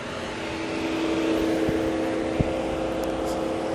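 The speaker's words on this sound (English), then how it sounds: "I'm going to open the hood of the vehicle and show you how the engine sounds underneath" A 2014 Lincoln MKS engine idles with the hood open, a smooth steady hum with a low tonal drone, heard close with a couple of light clicks and no talk.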